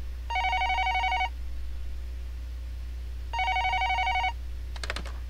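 A telephone rings in two separate bursts of steady electronic trilling with a quiet pause between them, set in a home in a Neon Genesis Evangelion fan story, followed by a brief soft clatter.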